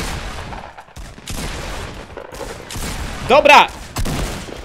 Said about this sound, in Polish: Tam jest, patrz, strzelam do kogoś.